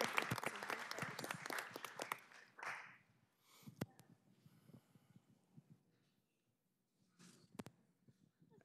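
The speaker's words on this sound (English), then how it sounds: "everyone can join me in a round of applause to welcome them" Room applause welcoming new members of a youth council at a city council meeting, clapping loud for about three seconds, then fading to scattered handclaps and a few isolated claps.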